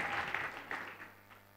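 A church congregation applauds during a sermon, the clapping faint and distant as a soft, steady wash that thins out toward the end.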